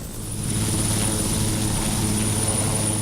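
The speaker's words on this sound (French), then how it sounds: "allers et retours incessants d'hélicoptères civils et militaires" A civil or military helicopter on a busy multinational aid operation flies continuously, its rotor and engine drone steady and fairly loud, swelling slightly at first and then holding even.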